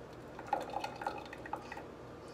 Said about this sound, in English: It's like dripping on my finger.